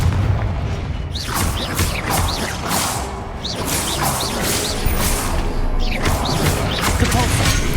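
Loud, continuous fire-spell blasts and crashing booms from the Hogwarts Legacy video game, with repeated sharp whooshing bursts layered over a dense, rumbling battle din and no pauses.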